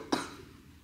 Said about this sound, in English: I don't know why I coughed just now.